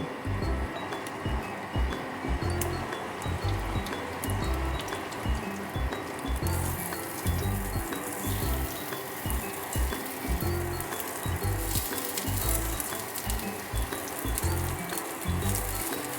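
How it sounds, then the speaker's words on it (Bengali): Rajma tikkis frying one by one in hot oil, a steady close sizzle and crackle that continues without pause, with no talking over it. "তেলটা গরম হয়ে গেছে। এবার আমি এক এক করে এই টিকিয়াগুলো দিতে থাকব।"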